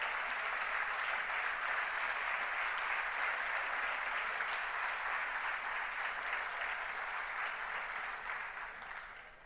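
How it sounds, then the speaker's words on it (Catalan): Warm applause from the audience at a local radio awards ceremony in Catalonia, a steady crowd of clapping hands that holds evenly and then fades out at the end. "Fort aplaudiment per ell."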